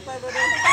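A Bullstag Talisayon gamecock for sale at the Tabunok market in Talisay, Cebu, gives a brief, loud, close crow that rises toward its end.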